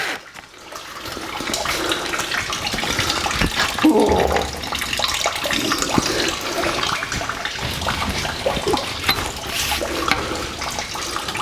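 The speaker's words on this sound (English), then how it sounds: "While we're waiting for the radiator to drain out" Coolant draining from the radiator of a 1949 Chevrolet gasser, a steady splashing liquid stream pouring continuously, close and moderately loud with faint background clatter.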